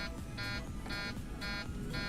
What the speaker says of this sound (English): Now when you put the power up, there's a warning buzzer comes on.